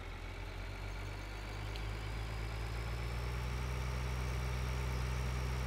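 A tractor engine runs in the Farming Simulator 2013 video game as a steady, low, droning idle with a constant hum and faint whine on top. It stays even and continuous with no voices.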